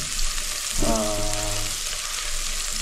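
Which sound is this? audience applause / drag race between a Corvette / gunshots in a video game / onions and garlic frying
onions and garlic frying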